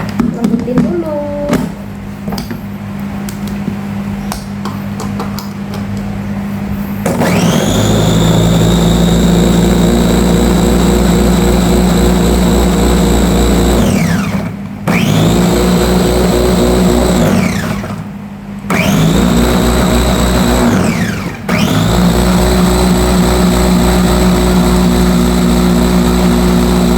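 A blender whirs loudly as it purées ingredients for rebon (tiny shrimp) pempek, running in several long bursts with brief pauses between them, and a voice talks over the motor.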